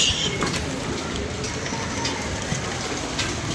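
Heavy rain falling, a steady close hiss of drops pattering on surfaces with a few sharper taps throughout, lasting the whole time with no clear voices.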